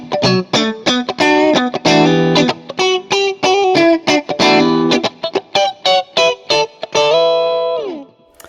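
A Fender Lead II electric guitar plays a loud, distorted, choppy riff of sharply stopped chords and notes through effects, ending on a ringing chord that fades, with no talking.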